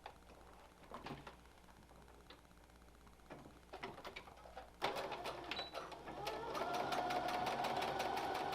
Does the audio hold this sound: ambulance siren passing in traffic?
no